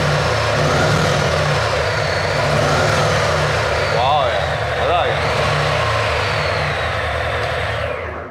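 A used cruiser motorcycle on its stock exhaust starts up with a deep, heavy, tank-like engine rumble that holds steady and loud for several seconds, with people talking over it.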